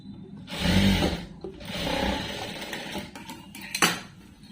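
A sewing machine stitches piping onto a dress, its motor running in a steady whirring burst with short pauses and clicks between runs, close and fairly loud with no talking.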